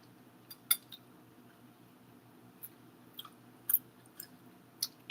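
Someone chewing a bite of lobster ravioli close to the microphone, faint soft squishy mouth sounds with a few sharper wet clicks spread irregularly over a quiet background.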